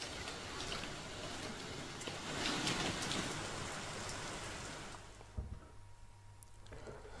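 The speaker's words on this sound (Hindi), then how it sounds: "दतिया जिले में बेमौसम बरसात और ओलावृष्टि ने किसानों की परेशानी बढ़ा दी है" Unseasonal rain with hail falling in Datia district, heard as a steady, dense hiss of drops hitting surfaces. It grows louder midway, then thins out, and a couple of sharper impacts follow.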